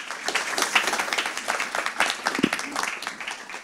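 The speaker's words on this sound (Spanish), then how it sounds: "Un fuerte aplauso con ustedes, María Teresa Braga" A live audience at the Comunícate 2017 event breaks into strong applause to welcome María Teresa Braga, a thick, continuous clatter of many hands with voices mixed in.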